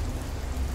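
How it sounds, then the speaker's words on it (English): Rain falls steadily in the horror video game Fears to Fathom, a dense, even hiss with a low rumble underneath, heard alone for under a second. "Got drenched in the rain."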